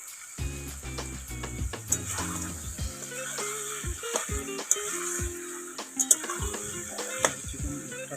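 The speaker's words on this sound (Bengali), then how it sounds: "প্রায় চিকেনটা ভাজা হয়ে এসছে" Chicken frying in a pan for a village-style country chicken curry, a steady soft sizzle running throughout with occasional stirring scrapes and clinks close by.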